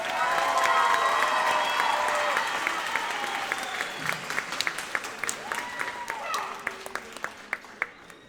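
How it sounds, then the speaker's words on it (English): A middle school audience at a fall band concert applauds the eighth grade band in a loud, dense burst with some cheering, which thins over several seconds into scattered individual claps. "Give them one more round of applause."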